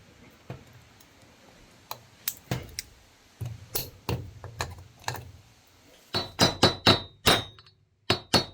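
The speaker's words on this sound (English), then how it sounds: "Okay, tap that in with a hammer," A hammer taps a front U-joint into place on a Ford Explorer Sport Trac V8 4x4, a series of sharp metallic clinks, sparse at first, then a quick cluster of loud strikes near the end, close by.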